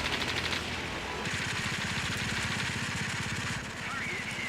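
Rapid rattling bursts from the I-16 fighter's machine guns in World of Warplanes, chattering steadily over a droning aircraft engine, with a voice talking over the firing.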